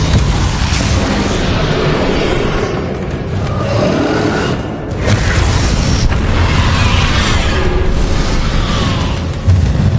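A Depulso spell cast in the video game Hogwarts Legacy, heard as a loud, sustained booming blast that roars steadily throughout with a sharp burst near the end.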